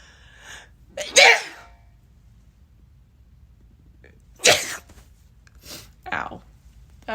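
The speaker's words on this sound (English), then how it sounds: "I have to sneeze." A single sharp sneeze bursts out near the mic, followed by a couple of short breathy sounds and quiet pauses.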